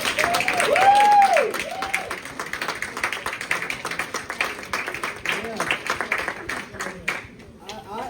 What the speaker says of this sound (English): I really do think that Jamar deserves a standing ovation and a rousing round of applause.